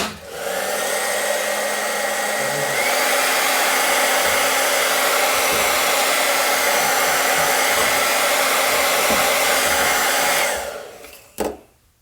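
A hair dryer blows steadily and loudly for about ten seconds, a constant whirring rush, then switches off with a brief clunk at the end.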